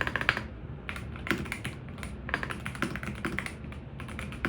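Rapid typing on a Hall effect magnetic-switch mechanical keyboard with a full aluminum case, crisp clacky keystrokes in quick uneven bursts, close and clear with no talking.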